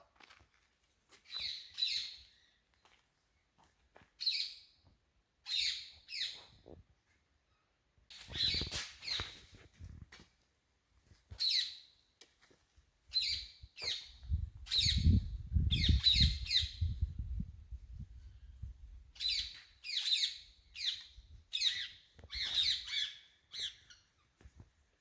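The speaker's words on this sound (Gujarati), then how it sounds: "તમે પોપટનો અવાજ સાંભળી શકો છો." Parrots and other forest birds at the Jambughoda camp site give repeated sharp squawks and chirps in bursts, fairly close and clear against a quiet background, with a brief low rumble midway and no talking.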